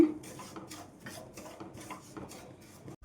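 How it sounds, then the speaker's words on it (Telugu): Bombay semolina being stirred and roasted in a pan on the stove: steady scraping and light rhythmic clinking of a spoon against the pan, close and moderately quiet, continuing throughout without speech. "ఈ విధంగా కలుపుకుంటూ మంచిగా వేయించుకోవాలండి."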